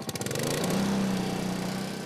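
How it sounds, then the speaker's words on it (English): A lawn mower's engine starts with a few sputtering pulses, then settles into a steady, loud drone with a clear humming pitch as it mows a lawn nearby. "For many of us, mowing the lawn is a chore."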